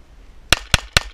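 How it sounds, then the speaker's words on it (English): A Remington R1 1911 pistol firing Winchester 230 grain .45 ACP rounds outdoors, four sharp reports in quick, evenly spaced succession, loud and close, with no talking. "Remington R1 1911 45 ACP Winchester 230 grain rounds"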